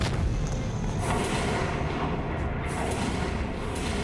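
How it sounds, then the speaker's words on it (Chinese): A deep, rumbling boom fills the clip, heavy low-end roar sustained for several seconds, like a large explosion heard from some distance, no talking. "工号爆炸了，快救人！"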